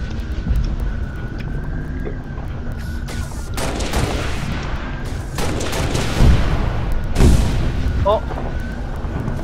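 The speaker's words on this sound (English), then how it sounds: "That's a concussion rifle." Concussion rifle in Halo Reach Firefight fires explosive blasts, a few heavy booms that burst out over constant battle noise and engine rumble, with players talking over the action.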